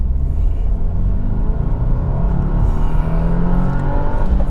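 A 2025 Subaru WRX tS on winter tires pulls hard down the road, its engine a loud, deep, continuous rumbling drone that swells as it accelerates, with no voices over it.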